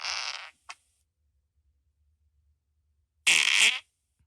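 Two short fart sound effects from a soundboard: a loud, raspy burst with a tiny trailing puff, then a pause of nearly three seconds before a second, slightly longer blast. No talking.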